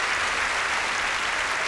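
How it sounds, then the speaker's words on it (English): A church congregation applauds, the dense clapping steady and even across the short stretch, filling the room with no voices standing out. "Let's applaud him"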